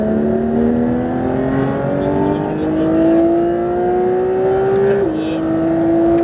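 Porsche GT3 RS accelerating hard on a race track, its engine note rising steadily through a gear with a brief shift near the end, loud and close, with faint voices underneath.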